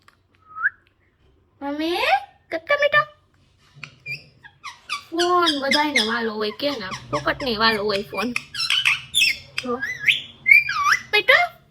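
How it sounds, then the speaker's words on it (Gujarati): A parrot whistles and squawks up close in a string of loud, varied calls, with brief pauses between bursts. "અમારો પોપટ"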